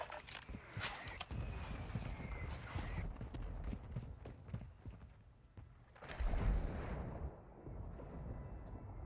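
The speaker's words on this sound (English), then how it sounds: "Friendly mortar strike on the way." A friendly mortar strike in Call of Duty: deep booming blasts, a cluster of sharp impacts early on and a heavier rumbling explosion about two-thirds through, over a steady battlefield din.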